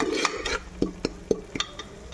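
A spoon stirs coriander and garam masala into methi chicken gravy in a pan, giving irregular close scrapes and light clinks against the metal over a couple of seconds, with no voices.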